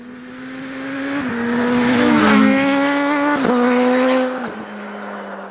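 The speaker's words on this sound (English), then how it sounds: "The ridiculous Kawasaki ZH2." A 2020 Kawasaki ZH2 motorcycle ridden on UK country roads, its engine climbing and holding loud and near, with brief dips at each gear change and no talk.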